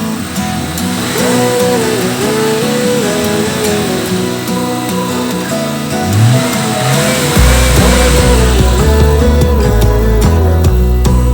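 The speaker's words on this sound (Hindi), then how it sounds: "आ रहे हैं गाड़ी।" Vehicles approach and drive past on a forest route in Udaipur, Tripura, their engines growing louder and deepening into a heavy rumble near the end, mixed with music.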